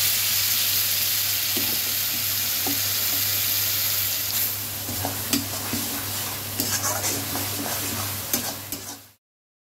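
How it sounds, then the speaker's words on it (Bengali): Bean paste frying in a hot spice tempering of dried red chilli and nigella seeds, a loud continuous sizzle with stirring scrapes and clicks, fading out at the end. "ফোড়নটা হয়ে গেছে, এবার বাটাটা দেবো।"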